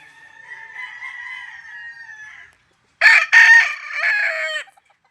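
Polespark Gray chickens at a farm: a long drawn-out crow, a pause, then louder close bursts of crowing and clucking that trail off.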